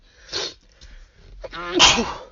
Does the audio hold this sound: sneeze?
yes